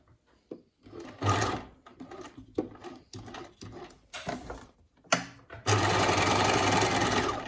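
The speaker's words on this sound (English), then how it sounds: "I now stitch the 2 pieces into place on the edge." A sewing machine stitches two fabric pieces along an edge: short bursts of whirring with pauses and handling clicks, ending in a longer, steady run of stitching, close up and clear with no voices.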